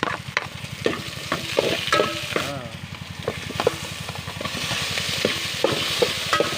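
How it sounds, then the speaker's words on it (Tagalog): Tomatoes and shrimp paste sauté in a hot pan with a steady sizzle and frequent sharp clacks of a utensil stirring. The frying stays close and moderately loud throughout, with no talk. "igigisa na po natin ng kamatis saka bagoong"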